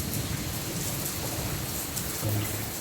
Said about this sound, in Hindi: बारिश तो अच्छी लगती है, इतना अच्छा मौसम हो गया।